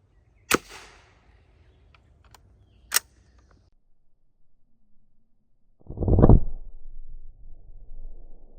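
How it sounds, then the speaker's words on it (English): A .22 LR CCI Segmenting Quiet 40-grain round fired into denim over ballistic gel gives a sharp, close crack, then a second sharp crack a few seconds later, and finally a louder, longer thump after a stretch of near silence. "So let's fire it and see if we can get the results that we expect."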